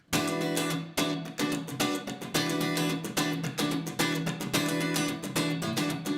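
Acoustic guitar strummed in a fast, driving rhythm with sharp accented chord hits and brief muted gaps, played alone and close.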